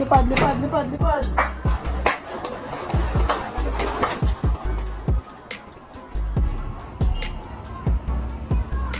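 Pet pigeons coo in low repeated bursts while wings flap and clatter in short sharp claps nearby, the sounds loud and close, scattered through the whole stretch with brief lulls between flurries.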